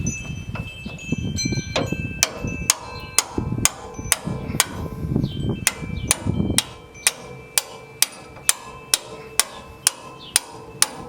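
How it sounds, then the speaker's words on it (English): A hammer strikes a punch to drive a strut bolt out of a Toyota Tacoma front suspension, roughly two dozen sharp metallic blows, irregular at first amid rattling, then settling into an even, steady rhythm. "Once you've removed the nut, you can just use a punch to get that bolt out"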